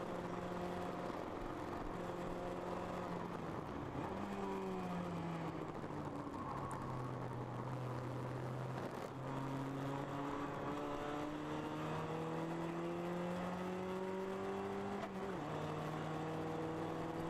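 A ChampCar endurance race car at Harris Hill Raceway accelerating back onto the track, its engine note climbing steadily through the gears with clear shift drops, loud and continuous.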